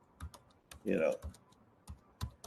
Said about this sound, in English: At any time, though, I can just type,